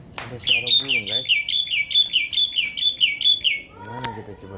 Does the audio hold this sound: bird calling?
yes